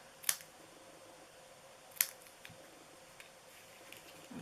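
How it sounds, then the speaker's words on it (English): Scissors snipping the ends of a paper treat box, two sharp crisp cuts about a second and a half apart followed by a few faint small clicks in a quiet room. "So I'm going to cut these ends here."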